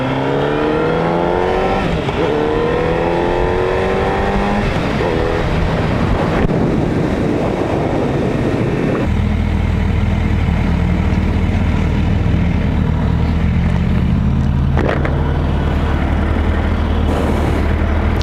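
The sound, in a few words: riding a Suzuki Hayabusa motorcycle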